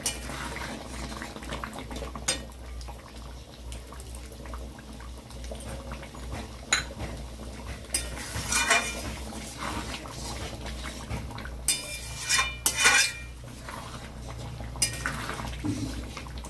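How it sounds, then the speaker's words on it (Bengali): Mutton curry gravy boils in a pot, bubbling continuously while a spoon scrapes and clatters against the pot in several bursts of stirring; no one speaks. "ঝোলটা ভালো করে ফুটে গিয়েছে এখন একটু নেড়ে গরম মশলা বাটা দিয়ে দিলাম"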